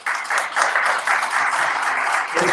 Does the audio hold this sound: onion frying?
no